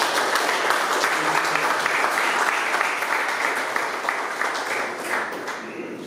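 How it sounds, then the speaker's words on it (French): Steady, dense applause from a conference audience at an end-of-season football club gathering, loud and sustained throughout with no talk over it, fading slightly toward the end. "Donc je vous demande tout d'abord de vous applaudir"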